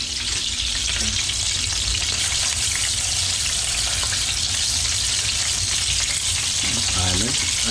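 Bacon-wrapped chicken breast rolls stuffed with jalapeño and cream cheese fry in a pan, giving a loud, steady, dense crackling sizzle that runs unbroken throughout, with faint scraping near the end.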